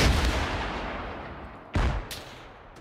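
Two heavy booms of a tank gun firing in ArmA 3, each a sharp blast trailing into a long decaying rumble, the second about two seconds after the first, with no voices.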